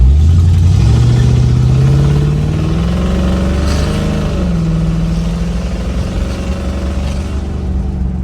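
A 1967 Ford Mustang cruising down the road, its engine droning steadily and rising in pitch as it accelerates, with continuous road and drivetrain noise close up and no voices.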